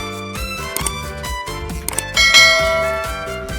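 A notification bell chime rings out in a bright, clanging series of metallic dings, louder toward the end, with no voices.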